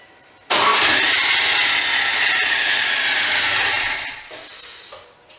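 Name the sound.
Subaru Forester engine running with a bad noise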